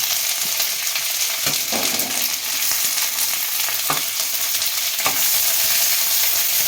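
Beetroot and carrot fry together in a hot pan for egg chow mein, a loud close continuous sizzle broken by a few sharp stirring scrapes, with no voices.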